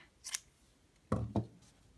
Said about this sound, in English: now I'm just going to cut the yarn here.